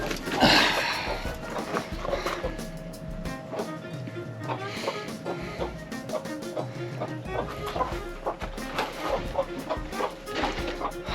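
A broody backyard hen clucking and grumbling in short repeated bursts close by, mixed with scratching and rustling, while people talk intermittently over it.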